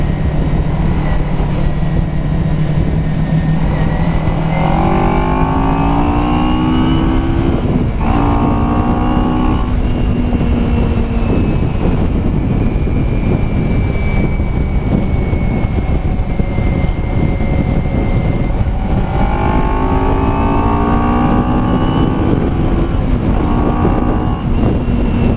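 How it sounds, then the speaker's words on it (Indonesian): A 2009 Kawasaki Ninja 250R Limited Edition motorcycle engine runs steadily and loudly throughout, with its pitch repeatedly sweeping up and falling back as the revs rise and drop off under engine braking. "kita mencoba engine brake-nya aja lah"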